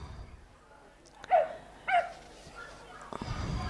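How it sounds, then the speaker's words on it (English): A dog at an international agility competition gives two short, distinct barks about half a second apart, moderately close, against quiet arena background. "And the dog barking its enjoyment as Alejandro hands over to Lydia Gonzalez"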